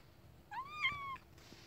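A rescued house cat named Olive gives a single short rising-and-falling meow, close and fairly soft, in a quiet room with no talk.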